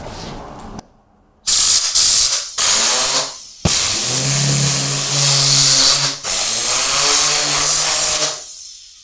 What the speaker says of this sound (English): And now you're vacuuming.